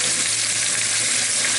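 Roast beef sizzling steadily in a hot pan, a loud, dense, continuous hiss of frying fat up close with no break.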